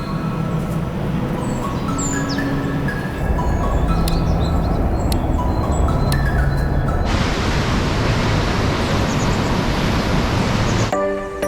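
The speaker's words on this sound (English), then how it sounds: "North Falls is one of the falls that you can walk behind, so let's do that. We're also going to see how loud it is." North Falls at Silver Falls, heard from the walkway behind the cascade, roars as a dense, loud, unbroken wash of falling water that swells even fuller midway through and ends abruptly.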